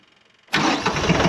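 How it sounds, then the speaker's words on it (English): After a moment of quiet, the diesel engine of a Bad Boy 4025H tractor turns over and catches, settling into a loud, rough, steady running rumble close by. "let's start the tractor."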